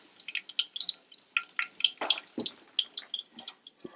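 Liquid dripping off a fried brick pastry as it drains, a steady run of small, close, crisp drips falling irregularly over several seconds with no talk.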